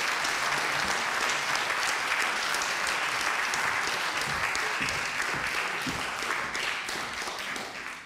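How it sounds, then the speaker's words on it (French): Sustained audience applause at a French conference on cultural rights in music schools and conservatories, many hands clapping evenly and fairly close, tapering slightly at the very end with no voices. "On peut applaudir Thiel et Friedrun."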